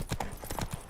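Roach the horse gallops in The Witcher 3, quick hoof clip-clops drumming in a steady rhythm at close range, with a voice briefly audible over the hoofbeats.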